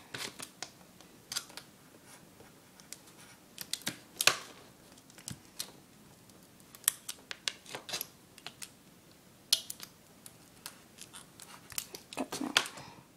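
Scissors snip through pieces of duct tape while a bracelet is being made, giving a series of sharp, close, irregular cuts and crinkles with brief quiet gaps between them.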